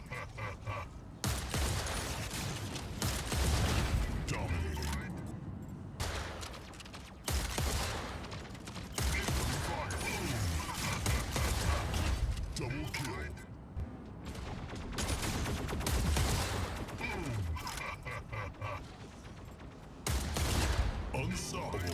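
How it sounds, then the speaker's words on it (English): Ember Guns firing in the video game Mech Arena, bursts of rapid gunfire that come in repeated volleys with short gaps between them, loud and close, with a voice talking over much of it. "we have the Ember Guns, the go-to weapon for many Mech Arena players, and one of the best close-range weapons for Surge"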